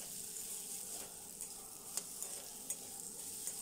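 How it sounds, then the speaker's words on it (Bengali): Potatoes fry in a pan with onion and chopped ginger for a green-pea ghughni, giving a continuous soft sizzle with a few sharp spatula scrapes and taps. No one speaks. "এরপর আলুগুলো দিয়ে দেব, আলুগুলো ভালো করে ভেজে নেব"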